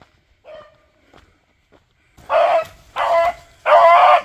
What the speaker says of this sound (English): hear a beagle start doing her howl and that barking, that hunting bark